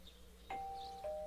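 A two-tone ding-dong doorbell chimes in the Persona 4 video game, clean and electronic, the second note following half a second after the first over a quiet background.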